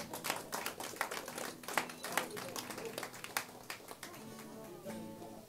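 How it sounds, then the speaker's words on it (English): Scattered hand claps from a small audience at a live band gig at The Towler, sharp uneven slaps close by, with voices talking over them. "Please give a round of applause."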